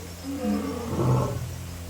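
A lion lets out a low, throaty roar that swells and fades over about two seconds, heard alone at moderate distance.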